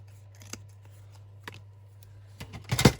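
Scissors trim the edge of paper for a Halloween junk journal, giving a few isolated snips up close over a low steady hum, then a burst of quicker cutting and paper rustle at the end.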